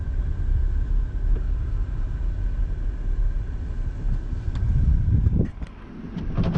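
A car's engine rumbles low and steady inside the cabin while parking in a business park lot, then quiets briefly near the end.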